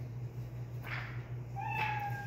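A cat meows twice, a short mew then a longer drawn-out one, over a steady low hum.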